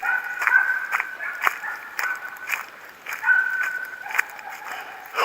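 A dog yips and barks excitedly in the bush between two dams while chasing a kangaroo, a series of high, strained barks and whimpers at a middling distance, with no talk.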